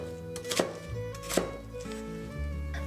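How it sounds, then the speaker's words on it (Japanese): A kitchen knife finely chops onion on a board in quick, light strokes, a handful of close, crisp chops with no talking. "玉ねぎみじん切り"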